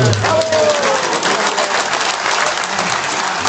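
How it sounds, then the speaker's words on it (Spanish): Sustained crowd applause at a PRD party political rally in Maravatío, greeting a municipal committee president, dense and even for several seconds with a brief voice at the start. "Fuertes aplausos"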